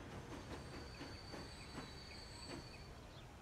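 Train in the Transport Fever game pulling into a station, steady rolling rumble with rhythmic wheel clicks and a thin high brake squeal running through the whole stretch, moderately loud and continuous.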